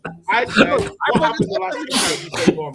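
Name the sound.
sneeze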